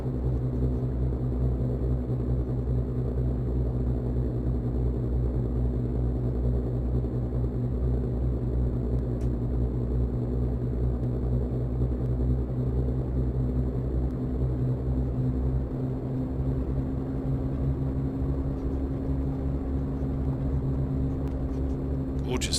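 Twin-engine Flying Fries XF-11 aircraft in Microsoft Flight Simulator, a steady droning engine rumble with strong low tonal hum held throughout while taxiing over California, with a speaking voice faintly present.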